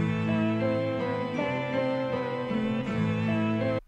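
A dark trap melody, time-stretched in auto stretch mode, plays as a steady, full-bodied run of sustained harmonic tones with smooth chord changes, loud and alone, cutting off at the end.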